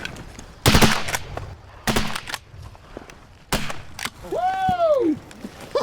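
Shotgun blasts during a mallard duck hunt in fields along the Snake River, Idaho: three loud sharp shots spaced apart outdoors, with a duck's quack near the end.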